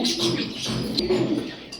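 Martin racer pigeons coo nearby in low, throaty, rolling calls. The cooing is close and clear across the short stretch, with a faint brief chirp near the end.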